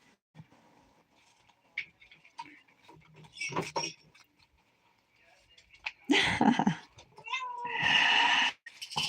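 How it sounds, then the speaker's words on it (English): Cats meowing in a few short calls, mixed with scattered creaks and clicks, some loud and near, with talk around them. "I have cats meowing over here"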